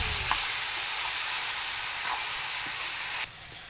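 Radish greens with prawns frying in a pan, a loud steady hiss of sizzling oil with faint stirring clicks, close up, cutting off sharply near the end, with no speech.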